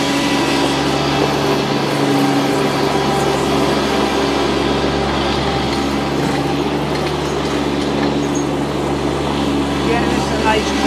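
A 2017 Kubota B2601 tractor loader backhoe with belly mower running at high throttle, a loud steady engine drone close by, with someone talking over it.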